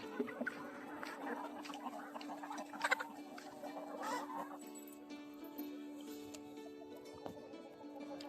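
Domestic hens cluck faintly in a coop, giving scattered short calls at a distance over a quiet background hum.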